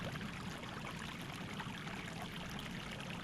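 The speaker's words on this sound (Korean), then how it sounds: "물소리만 가득한 밤." Flowing stream water at night, a steady, even rush and babble of running water filling the scene continuously, fairly faint and with no other sounds standing out.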